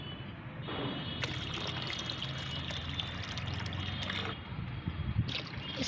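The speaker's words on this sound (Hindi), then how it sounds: "तो इसको मैं इसी पानी में मिला दूंगी" Liquid fertilizer poured into nine litres of plain water, a continuous splashing, trickling pour that runs steadily up close for several seconds with brief pauses in the flow.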